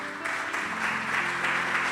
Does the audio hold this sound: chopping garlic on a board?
no